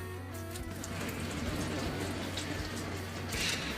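Water pours steadily onto an indoor potted plant in a grow tent, a soft continuous splashing trickle heard close but at low volume, with no one speaking.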